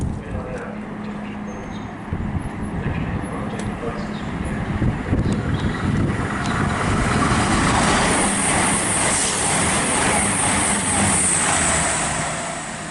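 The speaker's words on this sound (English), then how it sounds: "About to pass through the station now will be an East Midlands trains class 222 Meridian from London St" An East Midlands Trains Class 222 Meridian diesel unit bound from London St Pancras to Sheffield passes through the station, a broad rushing roar building and holding loud toward the end, with a voice speaking over the start.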